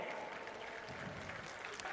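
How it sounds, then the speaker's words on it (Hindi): A crowd claps at a government appointment-letter ceremony, faint, steady applause heard from a distance and lasting about two seconds. "जोरदार तालियां"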